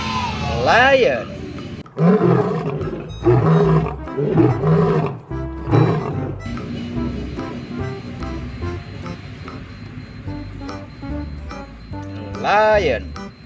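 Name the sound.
toy lion roaring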